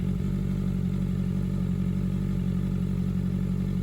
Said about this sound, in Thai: ฟังเสียงเครื่องนะ แค่สีสูจะประมาณนี้นะครับ